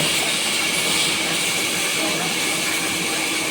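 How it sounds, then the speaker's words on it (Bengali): A sawmill's wood-cutting machine at Binpur in Jhargram district runs nearby with a loud, steady, broadband roar and hiss that stays unbroken throughout. "এটাই হলো চেরাই মেশিনের মূলটি এখান থেকে চেরাই হয়"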